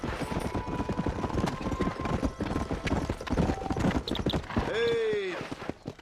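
A horse gallops in Red Dead Redemption, a rapid clip-clop of hooves under wind and faint voices, ending with a loud neigh near the end.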